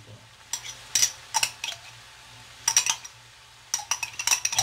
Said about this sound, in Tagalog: Bigyan natin itong isang bati ng hoisin sauce.